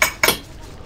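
A spoon clinks twice against dishes right next to the microphone, two quick, bright taps a quarter second apart.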